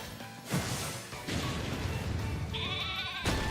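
Sheep bleating in the Atelier video game, a wavering animal cry that rises partway through among loud game effects, crashes and whooshes.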